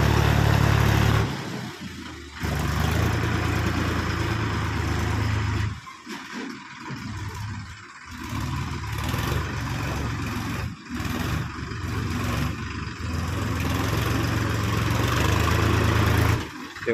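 A 39 horsepower four-wheel-drive Yuvo Tech Plus 405 tractor drives through deep mud, its engine droning steadily and close, with several brief dips and surges as it pushes on.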